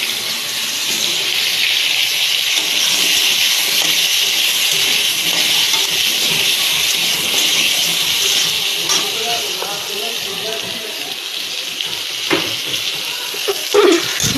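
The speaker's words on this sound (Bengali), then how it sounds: "তারপর আছে পটলগুলো ভেজে নেব" Pointed gourd (potol) fries in a little oil, giving a loud, continuous hiss of sizzling close at hand with faint clinks and movement beneath it.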